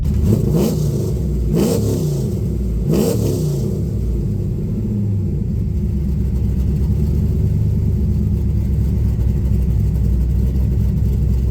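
Chevrolet Camaro LT1 V8 fitted with an LS3-style cam, revved hard in three sharp bursts and then settling into a loud, steady rumbling idle.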